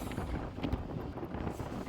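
Cool morning wind at Thenmalai dam gusts steadily across the microphone in a continuous rumbling buffet.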